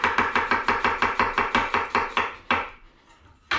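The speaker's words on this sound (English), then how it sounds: "All right, so we're going to get an onion. I'm going to do strips." A knife slices an onion into strips on a board, with about fifteen quick, even chops in a steady rhythm. A short pause follows, then one more chop. The sound is close and crisp, with no speech.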